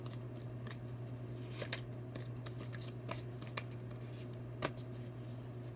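A deck of cards being shuffled by hand, faint and close. Soft riffles and snaps come irregularly over a steady low hum, with no talking.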